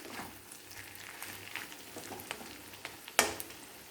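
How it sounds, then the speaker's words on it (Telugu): Onion softening in a pan for a spicy country chicken fry, a faint steady sizzle with occasional soft stirring scrapes and one sharper knock near the end. "చూస్తున్నారా, ఉల్లిపాయ చక్కగా మగ్గిపోతుంది కదా."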